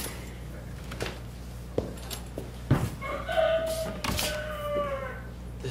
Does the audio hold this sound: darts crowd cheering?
no